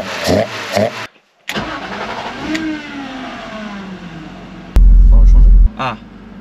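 A BMW E36 325i fitted with an M3 intake cranks and fires up, revving briefly before settling toward idle, with a short gap and a loud burst of rumble near the end; a voice speaks over parts of it.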